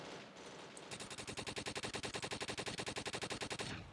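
Rapid automatic gunfire in the Roblox game Neighborhood War, one long sustained burst of evenly spaced, loud shots lasting about three seconds.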